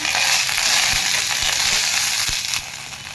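Onion and fresh ginger sauté in oil in a pan for a village-style chicken curry, producing a dense, loud, continuous sizzle with occasional crackles and spoon scrapes, easing slightly near the end, no speech.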